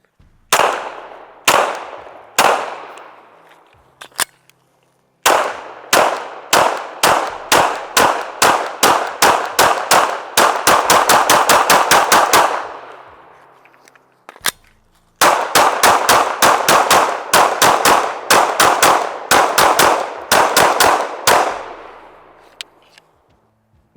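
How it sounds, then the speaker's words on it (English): A PSA Sabre Dagger pistol fires string after string of loud, sharp shots at a range, starting slow, then quickening into rapid strings before each magazine runs dry and a pause follows. "Got a few more mags now to shoot through the Sabre Dagger"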